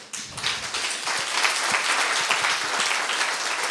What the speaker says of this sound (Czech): Ale to zase tleskáte tomu nahoře.